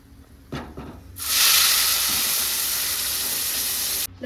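Prepared masala hitting hot oil for an egg curry, a sudden loud sizzle and hiss that starts after a couple of soft clatters and holds steady for several seconds before cutting off.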